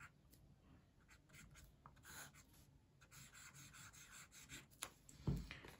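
Soft scratching of a Lamy Safari fountain pen nib moving across paper, a faint continuous rasp with small strokes and pauses, close up and without talk.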